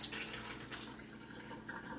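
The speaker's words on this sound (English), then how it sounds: "I'm adding in 2/4 cup of water" Water poured from a measuring cup into chocolate pound cake batter, a continuous close splashing trickle heard alone.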